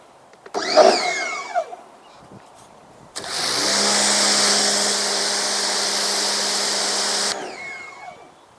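A pressure washer motor switches on with a sudden, loud, steady droning whine that holds for about four seconds and then cuts off, with a few clunks and handling noises before it starts.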